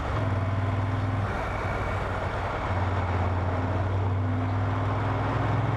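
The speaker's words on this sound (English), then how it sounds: "I hope that sound's coming through because these pipes are stock and they sound great." Moto Guzzi Griso motorcycle idling through its stock exhaust pipes, a steady low rumble with a deep throbbing pulse running alone for several seconds.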